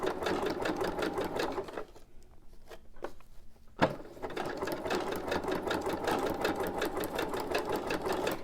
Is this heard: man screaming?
no